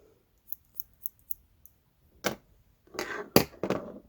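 Scissors snip off yarn ends on a crocheted winter headband: several quick, quiet metallic clicks in a row, then a few louder, longer cutting snips close to the listener.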